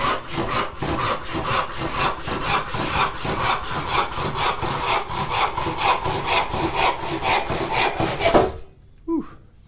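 A cross-cut panel hand saw cuts zebrawood for a butterfly bowtie joint, with loud, even back-and-forth strokes at a brisk steady rhythm that stop abruptly near the end.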